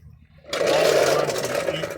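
An electric drill with a 1/8 inch bit bores into a GM door panel, starting abruptly after a short quiet pause and then whirring steadily and loudly up close.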